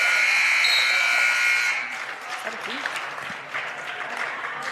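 A loud, sustained basketball game buzzer blares for nearly two seconds at an 8th grade boys game, then cuts off, leaving crowd noise and cheering.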